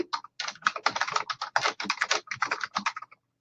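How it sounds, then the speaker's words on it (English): Typing a chat message on a computer keyboard, a close, quick and uneven run of crisp key clicks with short pauses between bursts. "I type it, I hit enter, and it comes up at the top with my name"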